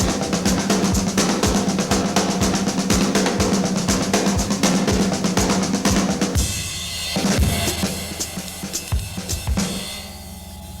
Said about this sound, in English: single paradiddle, double paradiddle, treble paradiddle, double paradiddle, single paradiddle, finish. And it sounds something like this.